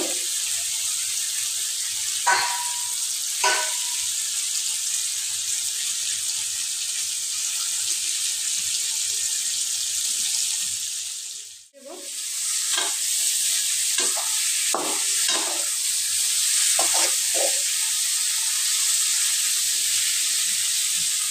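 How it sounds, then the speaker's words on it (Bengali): Cut pangas fish go into a spice paste frying in a pan, a continuous loud sizzle that briefly dies away then surges back, with scattered utensil clinks and scrapes. "এখন এর মধ্যে কেটে রাখা মাছগুলো দিয়ে দেব"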